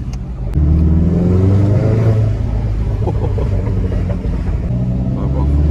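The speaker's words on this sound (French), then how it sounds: "la route elle est un peu mouillée, du coup là ça fait que de patiner" A Cupra Leon accelerates hard on a wet road with its wheels spinning, the engine droning loud and steady inside the cabin while people talk over it.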